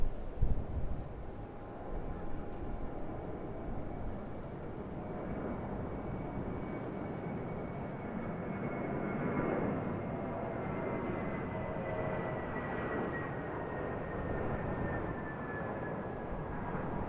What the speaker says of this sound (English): we've got a departure off of runway 34 right. It's a Jetstar Airbus A320.